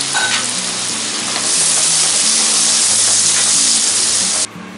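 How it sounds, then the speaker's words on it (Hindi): Finely chopped onions, about 200 grams, fry in a pan as the base for dhaba-style dal makhani, a loud continuous sizzle that swells after the first second and cuts off sharply near the end, no voices. "200 ग्राम मैंने प्याज जो बारीक काट ली है अब ये इसके अंदर डाल देंगे"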